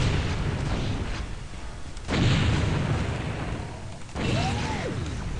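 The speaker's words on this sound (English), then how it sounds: "And there's a tank, our very first tank we killed." Heavy explosive blasts in the Quake video game as a tank enemy is shot and destroyed, three loud booming bursts with rumbling decays spaced a couple of seconds apart, with no talk.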